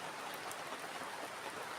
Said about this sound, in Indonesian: malam ini hujan-hujan seperti ini ya